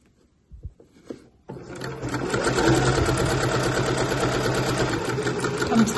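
A sewing machine stitches a bag lining seam, starting after a few soft handling knocks, then running continuously, loud and close, with a steady fast mechanical rhythm.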